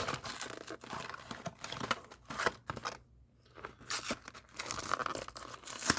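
A Star Wars Journey to the Last Jedi trading card pack, a Walmart exclusive, torn open by hand: loud, close crinkling and ripping of wrapper and cardboard in bursts, with a brief quiet pause midway.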